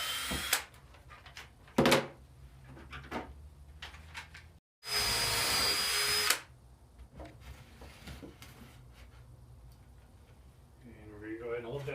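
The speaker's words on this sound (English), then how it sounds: "I'm going to go ahead and drill without having the cross brace there yet" Power drill boring holes through wooden desk legs for a simple DIY desk, one loud burst of about two seconds standing out between quieter handling knocks and clatter.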